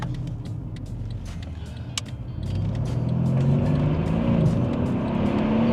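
A Mercedes-Benz CLS accelerates hard, its engine building steadily into a loud, rising roar heard from inside the car, with road and wind noise underneath.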